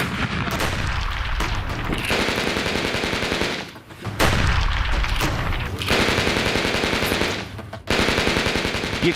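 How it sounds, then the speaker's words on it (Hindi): Rapid machine-gun and rifle fire during an Indian Army military exercise, loud bursts of continuous gunfire with brief pauses between volleys, echoing across open ground. "ये गोलियों की गूंज"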